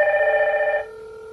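A Hikvision IP video intercom's call notification rings on a mobile phone, a loud steady electronic tone that holds for almost a second and then drops away, with no voices.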